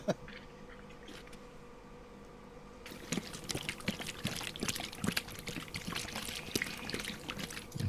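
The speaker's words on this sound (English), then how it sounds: "I'm shaking a bottle" A bottle of liquid is shaken. After a few quiet seconds, irregular sloshing and splashing build up and continue with uneven bursts at moderate volume, with no voices.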